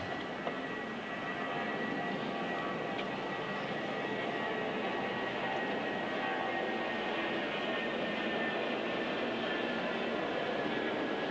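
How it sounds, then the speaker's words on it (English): An aircraft passes over the US Open tennis stadium, a broad, steady engine roar with a constant rushing drone that holds at a moderate level throughout. "These aircraft are not supposed to fly straight over this stadium."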